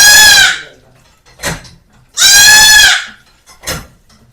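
A goat bleats loudly while being bathed: two long, close, wavering cries with shorter, fainter sounds between them.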